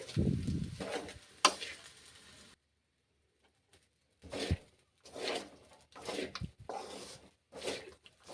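Tamarind-leaf pulihora rice stirred and mixed in a pan, soft scraping and rustling strokes in short separate bursts with quiet pauses between them, no talk.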